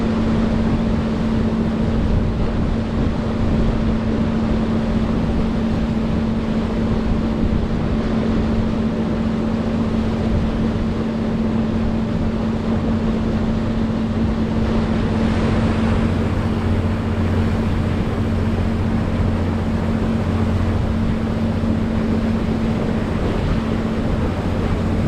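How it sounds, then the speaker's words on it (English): Steady, droning engine hum of a Nordhavn 50 motor yacht cruising at a constant 9 knots, a continuous low tone with water and wind wash, unbroken and even for the whole stretch. "turned up the RPMs and we're going a steady 9 knots"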